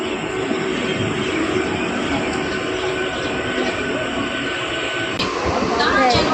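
Trains at Howrah railway station: a continuous rumbling roar of rail traffic across a busy platform, with a brief sharp screech near the end and people talking in the background.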